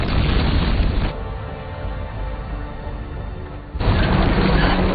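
A loud, dense explosion roars at a methane mine in a frigid North American setting, a sustained rumble with a dip in the middle before surging back at full strength, with no voices over it.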